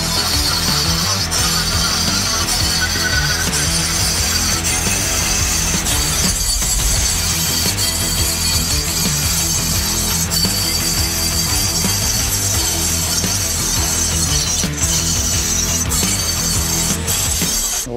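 Mini angle grinder cuts a metal rod, a continuous loud high-pitched whining grind with harsh metallic rasp, steady with brief dips as the disc binds in the heating rod.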